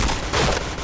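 Rapid burst of gunfire from a multiplayer first-person shooter, a dense fusillade of overlapping shots filling the whole moment at close, steady loudness.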